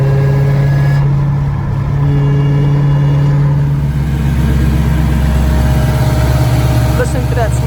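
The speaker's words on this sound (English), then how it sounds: "Listen to that smooth blower." A supercharged car engine runs steadily nearby, its smooth blower whine and droning tones continuous and loud while someone talks over it.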